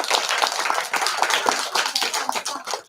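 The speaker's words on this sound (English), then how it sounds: "Can we give another clap to those 3 for sharing?" A school awards assembly audience claps together in a brisk, dense burst of hand claps filling the room, steady and loud from start to finish with no speech over it.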